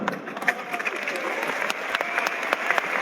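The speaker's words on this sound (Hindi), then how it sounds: "इन लोगों की तालियों से इस बात का एहसास होता है कि आपके लिए ये आत्मा से, दिल से ताली मार रहे हैं" An audience at an RCM event in India claps steadily and densely, sustained applause with scattered sharper claps, close and fairly loud.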